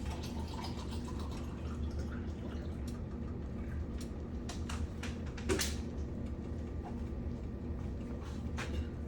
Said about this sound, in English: Add some water to this.